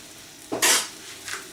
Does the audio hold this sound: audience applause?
no